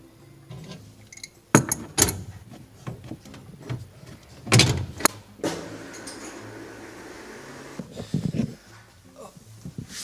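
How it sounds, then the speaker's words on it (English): A gas oven is slid forward out of its space, giving scraping and thudding bumps with a dragging rumble midway, fairly close and moderately loud. "you can slide the oven all the way forward"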